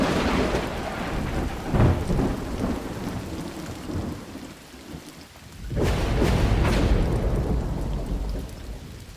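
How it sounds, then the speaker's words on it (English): A rainy-night thunderstorm: steady rain pours throughout while deep rolls of thunder swell up twice, one early and a longer, louder one later. "rainy nights with lightning and thunder"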